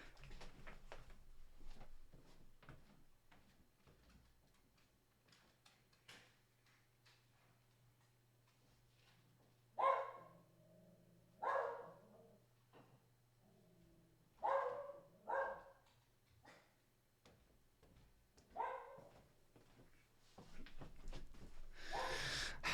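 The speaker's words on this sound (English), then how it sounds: "I'm going to just sort my dog out." A pet dog at home barks in a few scattered, fairly loud bursts against a quiet room with a low steady hum, no talking.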